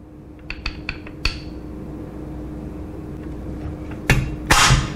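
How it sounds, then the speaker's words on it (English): Clicks and a mechanical clack as the hinged top cover of a milled Arsenal SAM7K Krink pistol is handled, a few sharp clicks early on, then louder metallic snaps near the end, with no talking. "We have a hinge top cover, as a Krink should have."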